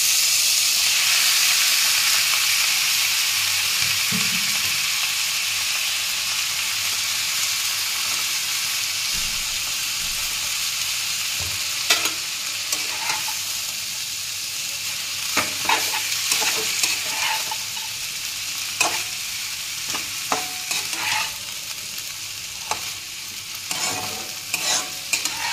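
Boiled chow mein sizzles and hisses steadily in a hot pan, with metal-on-pan scraping and clinks of stirring growing more frequent toward the end, close and continuous with no talk.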